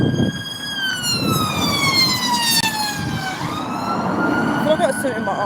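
A loud emergency siren wails in long falling sweeps, then jumps up in pitch, with background noise and a voice underneath.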